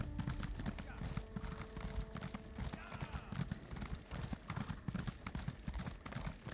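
Pony hooves clip-clop in steady rhythm across ground in Elder Scrolls Online, a continuous mid-loud run of hoofbeats with game ambience underneath.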